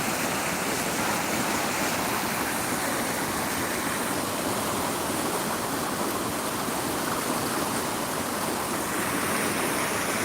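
Kansai river water rushing and roaring, a steady loud broadband flow like rapids or a weir, continuous for the whole stretch with no talk.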